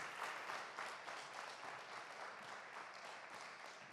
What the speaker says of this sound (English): Have a huge round of applause for Jane Hotchkiss, please.